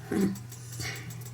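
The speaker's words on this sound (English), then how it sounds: "You can hear the dog in the background." Dog in the background, a short muffled bark or whimper at the start, then faint under a steady low hum.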